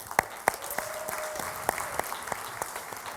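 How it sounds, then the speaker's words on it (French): Audience clapping in a church gathering, scattered hand claps over a broad wash of applause, fairly distant and steady, with a few sharper individual claps standing out. "qui ici par applaudissement a été touché par la vidéo qu'on vient de voir?"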